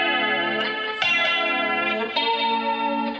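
An electric guitar played through flanger, echo and compressor effects rings out in sustained, shimmering chords with a swirling, doubled tone and a few fresh strums, loud and alone with no talking.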